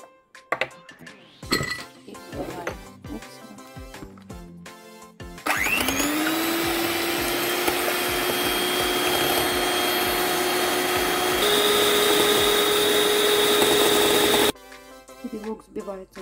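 An electric mixer whips four egg whites into a dense foam, starting after some clinks and bumps with a loud, steady motor whine that rises in pitch partway, runs for about nine seconds, then stops.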